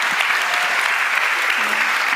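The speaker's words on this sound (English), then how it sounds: "Give them a round of applause, come on." Loud, dense applause from an event audience for a panel at a youth summit in Miami, steady and sustained throughout with no pauses, the crowd clapping together in a continuous wash.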